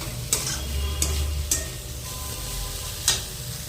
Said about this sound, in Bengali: এবার ভালো করে মশলাটা একটু ফুলকপি আর আলুর সাথে নাড়াচাড়া করে কষিয়ে নেব